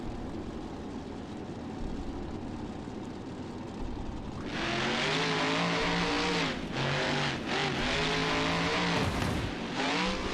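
A heavy engine drones steadily, then surges into a loud, sustained roar, rising and dipping in pitch as it revs.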